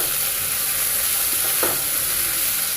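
Onion fries with garlic in a pan, a loud continuous close sizzle with one brief scrape of stirring partway through and no talking.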